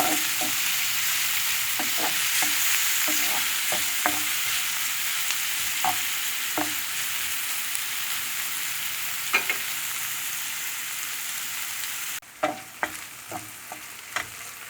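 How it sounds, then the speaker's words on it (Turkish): Turkish sucuk sausage fries in a pan for menemen with a soft, steady sizzle, while a utensil scrapes and taps the pan in irregular stirring strokes. "Şimdi sucuklarımı da ilave ettim. Güzel kavuracağım hep birlikte."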